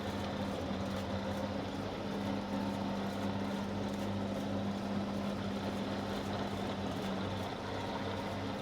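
A helicopter flying in a survival video game, its steady low rotor and engine drone holding constant and fairly near throughout, with no speech.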